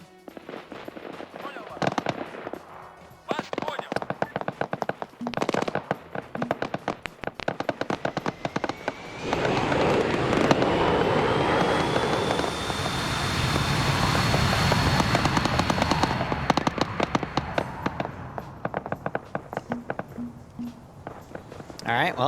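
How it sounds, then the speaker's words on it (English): Rapid bursts of gunfire crackle during a beach landing in a military video game, scattered shots at first, then a sustained roar of engines and fire, with talking over it. "Alright, well, gunfire started."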